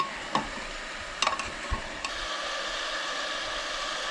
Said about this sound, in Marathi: सो हे बरें अशें परतून घेवंक जाय प्रॉपर 1 मिनटा लागून.